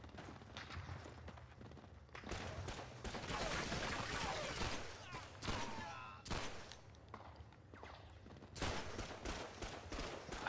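Rapid bursts of gunfire from a World War II shooter game, with dense rattling volleys and single heavy shots coming in uneven clusters, loud and close, with a few short pauses between exchanges.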